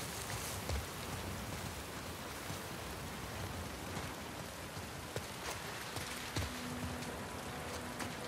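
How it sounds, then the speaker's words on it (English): Steady rain falls in The Last of Us Part II, a dense even hiss with scattered drop ticks and faint low thuds, constant throughout with no speech. "Oh, I just think it's just the rain, never mind."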